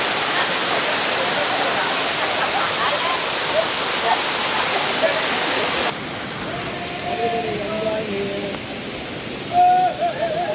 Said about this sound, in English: So here we go, the waterfall. The water is flowing fully